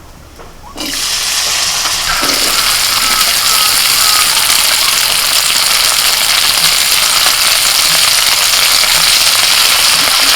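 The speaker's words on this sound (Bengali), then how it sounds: "প্রথমে করলাগুলোকে একটু ভেজে নেব" Bitter gourd (karela) pieces fry in a pan, a loud, steady hiss and crackle of oil that starts abruptly and continues without break.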